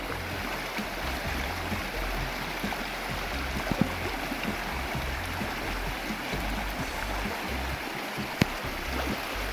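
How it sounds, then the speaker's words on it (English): River water rushes steadily across a trail ford on the Appalachian Trail, a continuous broad wash of flowing water heard close and alone at moderate level. "Look at this water rushing, rushing."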